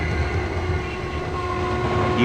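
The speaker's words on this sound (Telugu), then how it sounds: "ఈ ట్రైన్ నంద్యాల క్రాస్ చేసే కదా వెళ్ళాలి." A train rumbles past near a railway gate, its wheels clattering steadily and loudly with a sustained horn-like tone riding over the noise, close and continuous.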